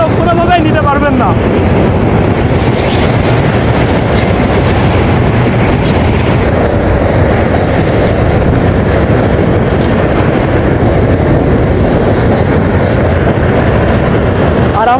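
The Rupsha Express rolls loudly along the rails near the Hardinge Bridge over the Padma River, a steady close rumble with rhythmic clatter and wind buffeting, and faint voices mixed in.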